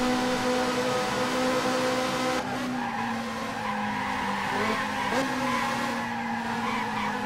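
Ferrari F355 racing in the F355 Challenge video game, its engine whining loudly under sustained tire squeal and skidding through a corner, with the pitch dropping and rising again as it accelerates out.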